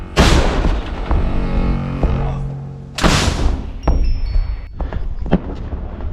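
Two loud, sharp weapon blasts about three seconds apart during close-range combat, each with a sudden broadband onset and a rumbling tail, followed by scattered clatter and a high whine.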